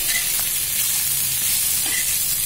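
Vegetables sizzling as they are stir-fried in a pan over gas, a loud, close, continuous hissing crackle with faint scraping touches.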